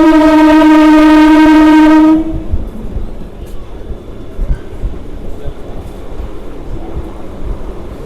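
Train on the Naihati–Barrackpore line entering platform two, a loud sustained horn blast for about two seconds, then a lower rumble of the rolling train with faint clatter continuing underneath.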